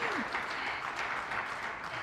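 A live audience at a speedrunning charity event claps for about two seconds, a dense, steady burst of applause heard right after a brief voice.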